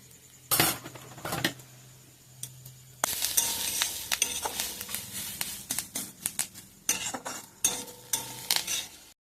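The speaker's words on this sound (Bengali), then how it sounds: "কারি পাত্তাগুলো দিয়ে দিতে হবে কারি দিয়ে দিই" Curry leaves hit hot oil in a frying pan for pulao, setting off a sharp sizzle, followed by repeated clattering stirs of a spoon against the pan, loud and close with no talk.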